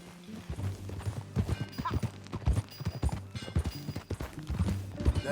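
Horse hooves clip-clop at a steady riding gait in the Red Dead Redemption II video game, rhythmic thuds close and clear over a low rumble, with a brief snort or whinny in the middle.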